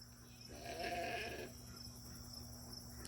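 A farm sheep gives a single short bleat, faint and somewhat distant, over steady outdoor hum and insect chirping.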